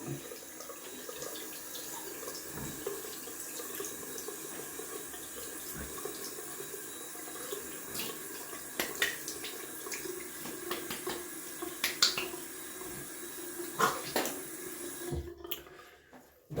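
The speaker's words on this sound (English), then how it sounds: "And then I'm gonna rinse off the alum." A running tap splashes steadily at close range as a face is rinsed after a wet shave with a YAQi Slant 37 stainless steel safety razor, a continuous watery rush with small spatters before it cuts off near the end.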